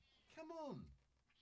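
A cat gives a single drawn-out meow that falls in pitch, fairly faint and close by in a quiet room.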